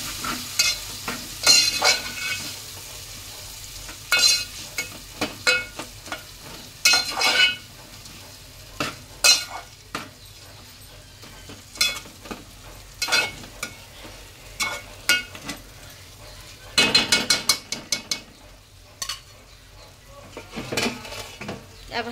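Chopped tomatoes stir-fried in a pot for beef biryani after turmeric goes in, with a steady sizzle and frequent scraping stir strokes and utensil clinks against the pan, close and fairly loud throughout.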